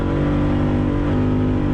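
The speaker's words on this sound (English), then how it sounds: "You can hear the pitch of the engine change." A truck engine racing with nitrous roars loudly and continuously, its dense steady harmonic drone filling the whole stretch without voices.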